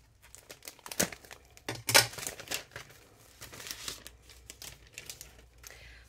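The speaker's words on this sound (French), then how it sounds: "il faut vraiment que je fasse attention à découper que le plastique" Plastic packaging is cut and crinkled close by during a Beebeecraft craft-supply unboxing, with sharp snips and crackling bursts around the first and second seconds, then softer rustling handling.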